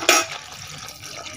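Water poured into a hot pan or pot while cooking a dried vegetable curry outdoors: a loud splashing rush at the start that fades into a softer trickle, close up, with no talking.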